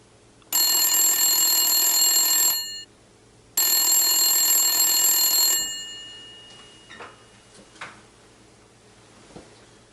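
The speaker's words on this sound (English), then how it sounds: "when the phone rang" An old-style bell telephone ringing twice, each long metallic ring lasting about two seconds with a pause between, loud and close in a quiet room, followed by faint handling clicks.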